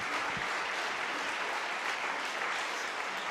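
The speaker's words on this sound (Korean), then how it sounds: "박수로 모시겠습니다." Steady applause from a church congregation at a Friday late-night prayer meeting, welcoming a guest speaker to a seminar; dense, sustained clapping fills the whole moment with no voices over it.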